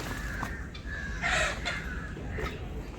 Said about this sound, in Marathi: ओरिजिनल गावठी कोंबडा